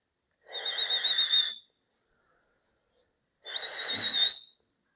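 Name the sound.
whistling sound while inhaling through lips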